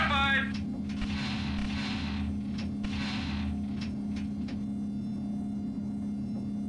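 Tank cannon fire booms in the 1998 tank game Spearhead, a few muffled blasts with rumbling decay over a constant engine hum, with a radio-style voice speaking over it.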